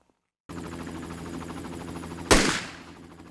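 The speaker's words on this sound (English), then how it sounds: "there is a long gap during the gunshot decay where the helicopter is ducked down too much to sound natural" A looping helicopter sound effect hums with steady rotor pulsing, then a single loud gunshot cracks in and decays while the helicopter drops sharply in level beneath it, as in Wwise HDR audio mixing.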